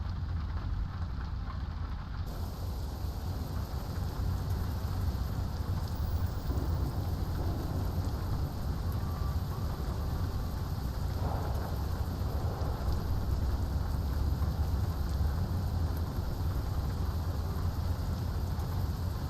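Video game rain and thunder in Euro Truck Simulator 2, heard from a Renault E-Tech truck: steady, heavy rain pours without pause, a dense wash of drops on a hard surface with a low rumble underneath, no voices.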